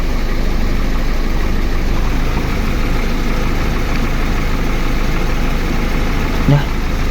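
CNG-converted car engine idling steadily with a broadband low rumble, close and loud throughout, with a brief clunk near the end.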